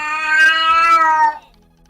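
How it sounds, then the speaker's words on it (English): A Persian cat lets out one long, loud, drawn-out meow close by, in a room during an online speedrun tournament broadcast, with a faint rumble underneath before it stops abruptly. "was that your cat with an opinion?"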